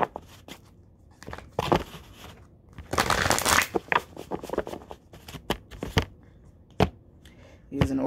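Oracle cards from a spirit animal deck are shuffled and riffled in irregular bursts of crisp papery rustling and slapping, close and moderately loud, with brief quiet gaps between.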